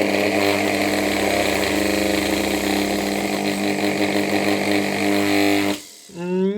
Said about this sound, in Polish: ale przynajmniej udało się ten silnik z tym wirnikiem uruchomić